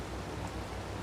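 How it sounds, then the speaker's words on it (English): Rain falling in Farming Simulator 22 on PS5, a steady broadband hiss of dense rainfall that holds at an even level throughout with no voices. "suddenly the noise has stopped for the rain, but that's because actually the rain is stopping"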